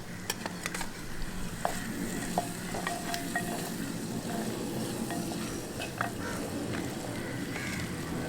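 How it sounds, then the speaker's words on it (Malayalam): Onion sautés in oil in a pan for potato theeyal, a dense continuous sizzle broken by frequent scraping and stirring clicks, heard close and steady. "എണ്ണ ഒഴിച്ച് എണ്ണയിലിട്ട് ഉള്ളി ഒന്ന് വശക്കിയെടുക്കാം"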